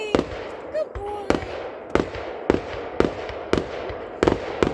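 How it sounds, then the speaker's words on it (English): Fourth of July fireworks in Washington, Maine pop and bang in a steady series of sharp cracks about every half second, some doubled, with a voice talking among them outdoors. "He likes watching fireworks"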